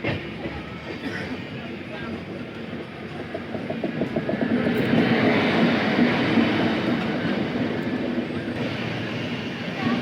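The Ranchi Garib Rath Express, hauled by a WAP7 electric locomotive, approaches on Indian Railways track. A rolling rumble swells to its loudest midway, then stays strong as the coaches pass close by.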